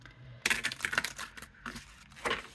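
A deck of stiff, almost plasticky Arthur Rackham oracle cards being shuffled by hand in a few short riffling bursts separated by brief pauses, close and quiet, with no voices.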